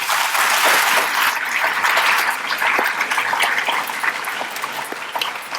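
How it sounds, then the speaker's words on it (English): Audience applause at the 2024 OVSD Distinguished Alumni Award Ceremony, dense sustained clapping from a seated crowd, loud at first and slowly tapering over several seconds. "please give her a round of applause."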